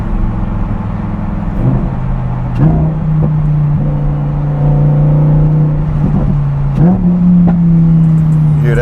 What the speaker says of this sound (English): This engine sounds so sick.